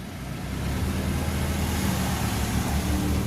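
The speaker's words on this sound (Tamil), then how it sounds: "திங்கக்கிழமை இன்றைக்கி நல்ல டிராஃபிக்காக தான் இருக்குது" Steady road traffic on a busy Monday in Ooty, with groups of bikes passing. A continuous low engine rumble holds close by and builds slightly after the opening, with no clear voices.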